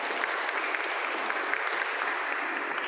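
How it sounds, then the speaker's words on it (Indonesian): Applause for a student group presenting at a church youth gathering: steady, dense clapping from a room of people, fairly loud and continuous throughout, with no talking over it. "kita kasih aplaus kelompok 4"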